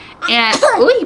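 A single sharp human sneeze from a woman one month postpartum, loud and close, with a brief spoken exclamation just after it.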